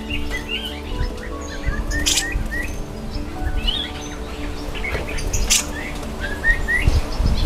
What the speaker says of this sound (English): Today we release the brown-cheeked bulbul at deHakims aviary.